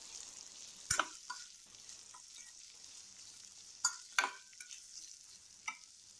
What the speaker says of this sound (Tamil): சேர்த்துட்டு வெங்காயத்தை வந்து பச்சை வாசனை இல்லாம வதக்கினா போதும்.